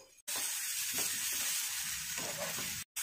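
Mushrooms and capsicum frying with spices in a pan, a steady close sizzle filling the stretch between two brief silent gaps.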